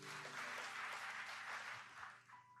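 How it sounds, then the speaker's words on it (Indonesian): A church congregation at an evening prayer service claps in a sustained, moderately loud wash of applause that thins out toward the end, with a faint tone lingering underneath. "Tepuk tangan buat Roh Kudus."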